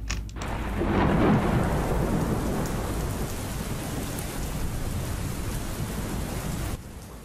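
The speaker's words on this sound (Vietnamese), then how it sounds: "bên ngoài bắt đầu có tiếng lách tách của mưa rơi, kèm theo tiếng gió ù ù" Steady heavy rain pouring down with a low rumbling roar of wind or distant thunder beneath, constant and enveloping, no voices.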